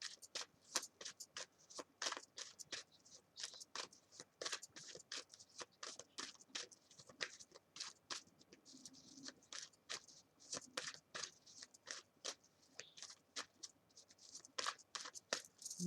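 Tarot cards being shuffled, a steady run of crisp papery riffles and taps repeating for the whole stretch, close and fairly quiet with no talking over it.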